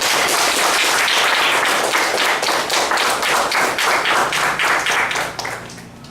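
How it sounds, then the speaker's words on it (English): A room full of people applauding the president at a club evaluation session, dense and loud continuous clapping that fades out at the end. "I really want you to give a big applause to the president."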